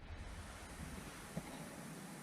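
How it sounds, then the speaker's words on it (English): Wind gusts around an observatory dome at night, a steady broadband rush with a faint low rumble and one brief bump near the end, continuous throughout with no voices. "It's a bit windy"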